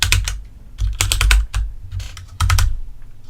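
Computer keyboard keys pressed rapidly while testing controls in an indie game, coming in several dense bursts of quick clicking taps separated by brief pauses, close and fairly loud with no talking.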